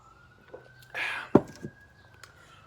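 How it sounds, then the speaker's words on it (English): A faint, steady emergency siren wails in the distance beneath soft, close speech and a few handling noises. "this is sirens in the background"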